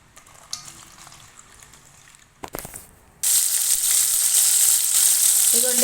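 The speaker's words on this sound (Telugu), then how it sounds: "ఇదిగోండి కడాయి పెట్టుకొని అందులో ఆయిల్ పోసుకొని ఉల్లిగడ్డలు వేసుకున్నా, వేగుతున్నాయి" Onions frying in oil in a kadai: after a few soft clinks and handling sounds, a loud, steady sizzle bursts in and continues without a break through the end.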